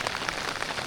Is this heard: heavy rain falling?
yes